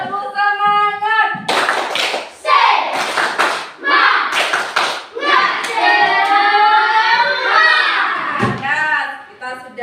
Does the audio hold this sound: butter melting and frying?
no